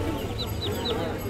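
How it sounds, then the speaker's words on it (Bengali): A large turkey at a busy poultry market gives a few quick, high chirping calls over a steady crowd murmur. "বিশাল বড় টার্কি"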